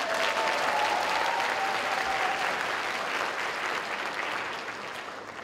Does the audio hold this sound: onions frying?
no